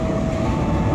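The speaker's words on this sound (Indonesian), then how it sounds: "Ini dia kereta apinya ya." A train rushes past a railway crossing at Madukoro, a dense loud rumble of wheels and cars filling the whole moment up close.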